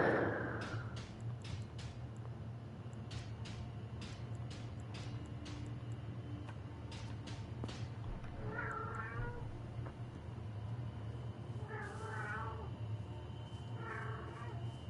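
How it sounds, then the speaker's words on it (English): A cat meows several times in quick succession, fairly close and clear, over a steady low background hum during Elden Ring play, with one brief broadband burst near the start. "Away, cat."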